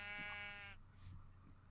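A single Minecraft sheep bleat, a nasal, buzzy held note lasting under a second, followed by faint low game ambience, quiet and with no speech.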